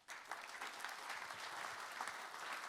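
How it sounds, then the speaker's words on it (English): Audience applauding speakers at a conference, a dense, continuous patter of clapping heard from a distance and fairly faint, starting abruptly and holding steady. "please give a big applause to all the speakers"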